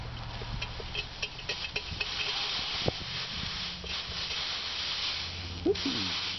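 Steam hissing off a hot, freshly welded bolt during removal of a Briggs engine bolt, a soft continuous hiss with a few faint clicks and knocks, fairly close.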